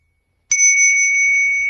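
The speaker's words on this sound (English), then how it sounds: "With every breath, with every bell sound, take your attention to the crown chakra and above." During a crown chakra meditation, a single bright bell strike rings out after a brief silence, then sustains as a clear, steady tone close by with no voices.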